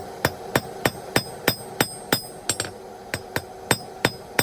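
A hand hammer strikes a hot steel bar on an anvil, knocking the corners off to take it from square to octagonal, with about a dozen sharp, ringing blows at a steady, close rhythm.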